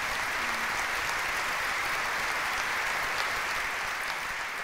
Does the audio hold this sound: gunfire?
no